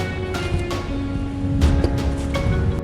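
A creek along a hiking trail on a windy day makes a steady, broad rushing wash, nearby and moderately loud, broken by a few brief gusts and splashes.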